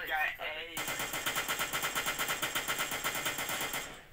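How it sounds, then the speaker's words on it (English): Automatic gunfire rattles in VRChat, a rapid, evenly spaced burst of loud shots lasting several seconds. A voice is heard briefly just before the burst begins. "I'm just gonna kill myself by shooting you, Link."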